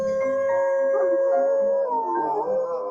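Several dogs howl together in a long, sustained, mournful chorus at a special remembrance place, their overlapping wavering voices rising and falling loudly and close for the whole stretch, with no talking.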